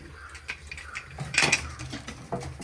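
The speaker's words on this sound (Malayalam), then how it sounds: "നമുക്ക് നേരെ കുക്കർ അടക്കാം." A pressure cooker lid is shut in a home kitchen, a few sharp metallic clanks and clatters of pots and utensils, close and fairly quiet, with no talking.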